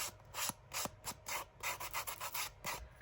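Paper being scuffed and rubbed by hand for a Christmas junk journal, a steady series of short, close, raspy strokes in an irregular rhythm with no talking.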